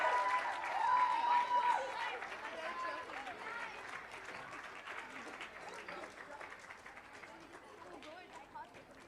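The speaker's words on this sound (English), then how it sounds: "Guys, huge round of applause." A festival audience applauds the runner-up team at a literature festival awards ceremony, loud sustained clapping that starts strong and gradually thins and fades over several seconds.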